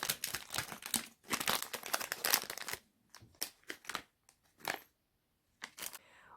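Crinkly plastic packaging of small copper earrings with a silver-tone coating being torn open and handled, first in a dense crackling burst, then in short separate rustles and crinkles with quiet gaps, close up.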